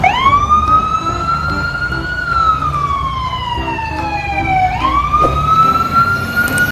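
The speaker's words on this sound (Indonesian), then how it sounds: "Wow, mobil pemadam kebakaran." A toy fire engine's electronic siren wails steadily, its tone sweeping slowly up and down in a loud, close, continuous whoop with faint background hum.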